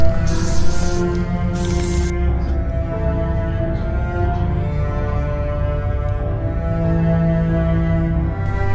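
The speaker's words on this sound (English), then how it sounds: "More spray paint." Spray paint hissing onto salvaged cheap Christmas baubles in two short loud bursts near the start, over steady background music.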